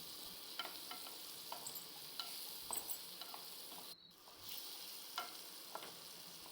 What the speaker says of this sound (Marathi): हळद आणि ते छान परतून घेतलेलं आहे